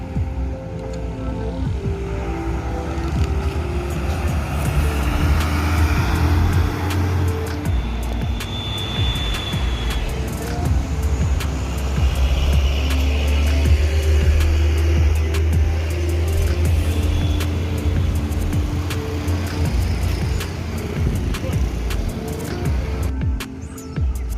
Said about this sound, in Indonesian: Bus ini langsung berangkat menuju Palembang bosku.